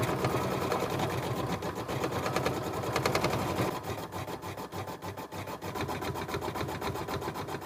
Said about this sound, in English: Place my hoop back into the machine, and it's going to stitch out the satin stitch for my lemon.